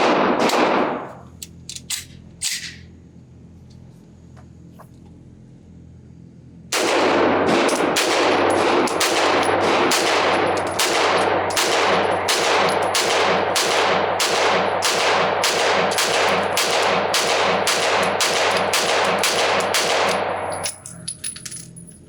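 Rapid string of sharp gunshots from a B&T SPC PDW pistol-caliber carbine at an outdoor range: a few isolated shots, a short pause, then a long, steady, evenly spaced volley of loud, close reports.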